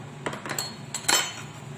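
Light metal clinks of spoons adding sugar into a bowl, spaced a few beats apart, sound quietly against a near-silent room.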